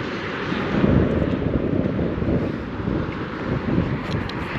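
Steady wind buffeting the microphone in a low, continuous rumble outdoors with light drizzle, gusts swelling and easing throughout; no voices.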